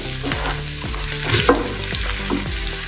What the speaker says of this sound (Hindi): देखो अच्छे से नरम भी हो गए प्याज अपने और कलर भी चेंज हो गया है थोड़ा।